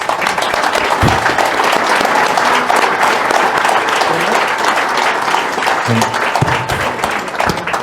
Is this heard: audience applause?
yes